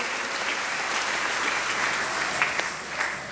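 Church congregation applauding during a Sunday service, a dense, steady wash of clapping from many hands that holds evenly throughout.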